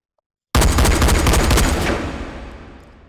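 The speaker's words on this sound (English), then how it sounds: "Lock that on full auto. You'll notice that even on full auto, this fires fairly slowly." Russian rifle in the VR game H3VR fires a fast, dense burst on full auto, loud and close, the shots running together for about a second and a half before ringing off into a fading tail.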